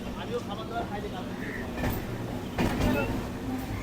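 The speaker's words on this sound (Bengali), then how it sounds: "আমাদের ট্রেনটা এই বাগবাজার স্টেশন ছেড়ে বেরিয়ে যাচ্ছে" A Kolkata circular railway train pulls out of Bagbazar station with a steady low rumble and faint wheel clatter heard from on board, swelling slightly toward the end.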